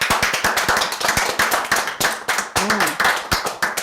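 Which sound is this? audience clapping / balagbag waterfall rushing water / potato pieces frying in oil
audience clapping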